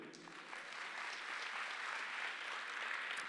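Steady audience applause at an Agile Tour conference session, a dense continuous wash of many hands clapping at moderate level throughout, with no voices over it.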